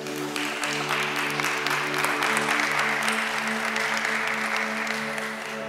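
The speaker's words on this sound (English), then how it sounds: "let's give God another hand clap of praise" A church congregation claps in praise, sustained dense applause from a large crowd filling the room, with a faint musical tone underneath.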